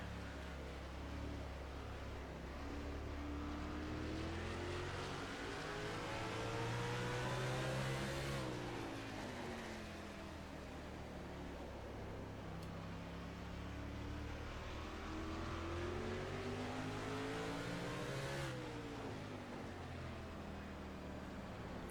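Race cars in the NASCAR Racing 2003 video game roar around a short oval during the Virginia 500, engines rising and falling in pitch as they pass, loud and continuous with no talk.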